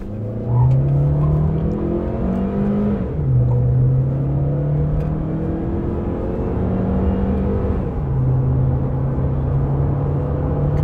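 A 2024 Jetour Dashing SUV accelerates hard in sport mode with traction control on, its engine note rising steadily through several gear changes in a loud, continuous interior drone with no talking.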